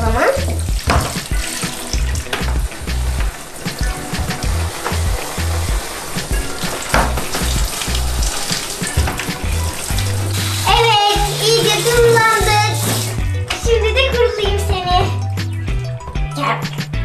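A faucet runs steadily while a Baby Alive doll's hair is washed, the water rushing continuously under a child's and an adult's voices chattering throughout.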